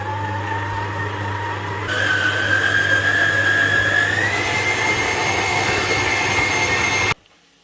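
An electric dough mixer kneads rye bread dough with spinach, its motor whine stepping up in speed and pitch partway through, then holding a steady loud drone before cutting off abruptly near the end.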